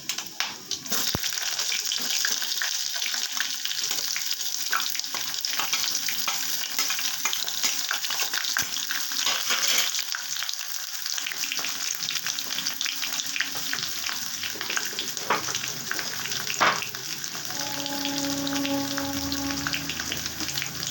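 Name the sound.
chopped onions frying in a pan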